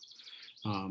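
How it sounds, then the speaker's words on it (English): A bird sings in the background with quick high chirping notes, faint and distant, before a louder low-pitched voice cuts in near the end. "And Art, there's a lovely bird singing at your house in the background."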